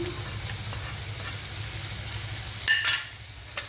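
Taro (arbi) pieces added to a hot frying pan with a pinch of asafoetida, a steady close sizzle with a brief louder clatter and surge of frying near the end, no voices.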